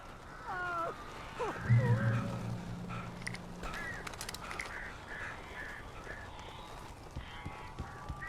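Crows caw in the Alan Wake video game, a few harsh calls early on over a dark, quiet ambient bed with faint footsteps and thumps.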